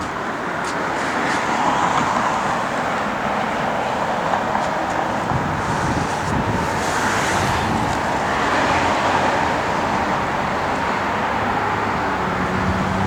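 A 1968 AMC AMX drives along, giving a steady, broadband rumble of engine and road noise with some wind, fairly loud and continuous with no talk.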